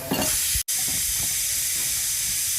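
Tomatoes with turmeric powder sizzling in a pan, a steady close hiss of frying with a brief cut partway through and a few faint stirring scrapes.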